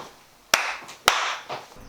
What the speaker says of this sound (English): And I'll do the clap.